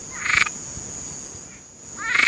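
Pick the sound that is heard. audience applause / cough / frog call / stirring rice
frog call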